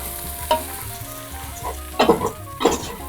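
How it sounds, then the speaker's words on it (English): Rice stirred and fried in oil in a pot for Filipino arroz caldo, with a steady sizzle and a few louder scraping stirs near the start, middle and end, no voices. "You make sure the rice are kind of coated with the oil, like you keep stirring it."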